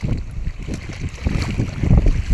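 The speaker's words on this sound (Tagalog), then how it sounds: "sobrang lakas po ng hangin talaga ngayon" Strong wind buffets the microphone with loud, continuous rumbling gusts during night fishing in cold weather in Lubang, mixed with the wash of water nearby.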